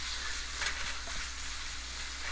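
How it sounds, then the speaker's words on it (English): Chili sizzling steadily in hot oil for paneer sambal, a dense, even frying hiss up close, with a couple of faint stirring knocks and no voices. "cook the chili properly until it's well cooked"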